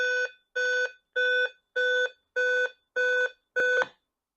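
A video intercom station, triggered remotely, gives a chime of seven identical short electronic tones in an even, quick rhythm, close and clear with no voices.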